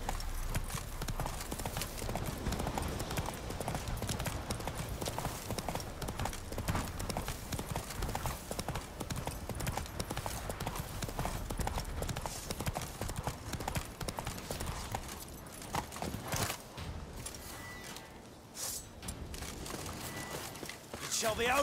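Roach, a horse in The Witcher 3, gallops in steady rapid clip-clop hoofbeats that run close and loud almost throughout, with a brief snort or whinny near the end and game voices mixed in.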